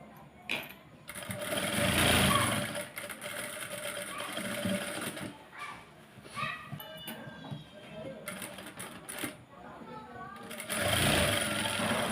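A sewing machine stitching fabric for a small child's readymade half-saree, running in long steady whirring bursts with brief stops, close and loud, while someone talks over it.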